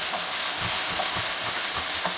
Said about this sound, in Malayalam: തക്കാളി ഒന്ന് വെന്തുടയുന്നത് വരെ വഴറ്റി കൊടുക്കണം.